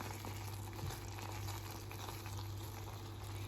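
Candied cherries simmering in sugar syrup in a pan, a soft continuous bubbling and gentle sizzle at low volume over a steady background hum.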